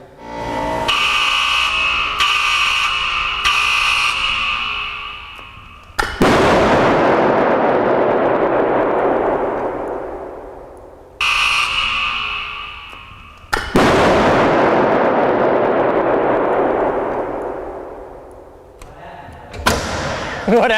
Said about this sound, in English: we're going to dump all of that energy into a first generation iPhone